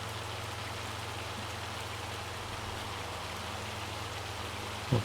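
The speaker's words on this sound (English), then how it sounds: "I don't know when this rain is gonna stop. Hail, whatever you want to call it." Steady rain or hail falling in the farming video game Farming Simulator, a dense even hiss with a low drone underneath that holds throughout, no voices.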